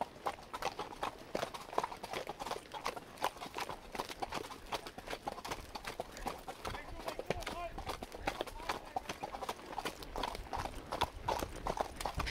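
Hooves of a domesticated Mustang horse clip-clopping steadily along a mountain trail, a continuous close rhythmic patter throughout.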